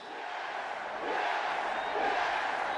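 Wrestling arena crowd in the video game WWE 2K26 roars and cheers, a dense swelling crowd noise that grows slightly louder over a few seconds.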